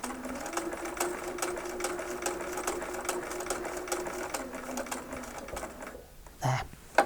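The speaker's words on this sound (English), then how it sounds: "So that you can stop stitching right at the end of the previous stitching line." A domestic sewing machine stitches a quilting seam with a steady, close, rapid mechanical whir. It runs under faint talk and stops near the end, followed by a couple of soft handling knocks.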